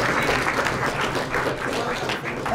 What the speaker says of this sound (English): let's give all 5 of these people a nice round of applause